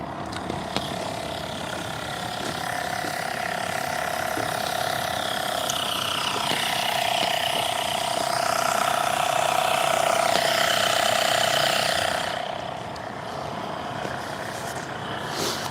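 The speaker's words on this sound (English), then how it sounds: "this air compressor's slow, so it's gonna take us a while" A slow air compressor runs in a continuous mechanical drone with a steady humming tone and faint rattling, holding level for most of the stretch before easing slightly near the end.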